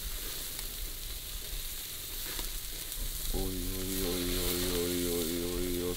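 Food fries and sizzles in a pan, a constant crackling hiss that continues while a loud tonal hum enters midway and sustains to the end.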